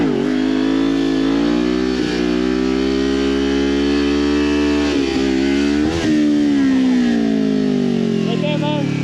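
A motorcycle engine revs hard and accelerates for a wheelie, its loud close drone rising and dropping in pitch through several throttle surges, with a brief voice over the engine noise.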